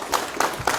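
Applause at a BJP joining event in Surankote as Iqbal Malik is welcomed, a short burst of crowd clapping with a few louder swells, brief and moderately loud.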